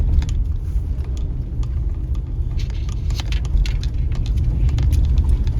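A car with its side windows open drives in four-wheel drive with traction control switched off, producing a loud, continuous low rumble of engine and road noise, with crackling, pattering texture from the tires over rough ground throughout.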